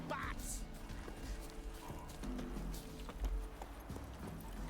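Hooves of Roach, Geralt's horse in The Witcher 3, clip-clop at a steady walking rhythm under ambient game sound, fairly quiet, with a voice speaking over it.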